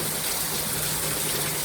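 Rainwater gushes over the top of a gutter after days of rain, a dense, steady rushing and splashing wash that stays close and loud without letup.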